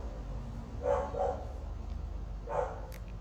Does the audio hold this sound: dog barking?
yes